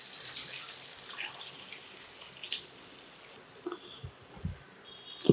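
Water is poured into a pan while wheat rava upma is being made, a quiet steady trickle with a few light clinks and taps near the end.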